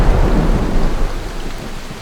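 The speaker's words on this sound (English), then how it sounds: "at this point it started to rain." Steady rain pours down outdoors beside a naturalistic garden pond under construction, with deep rolling thunder rumbling through; the downpour stays loud and continuous for the whole stretch with no voices.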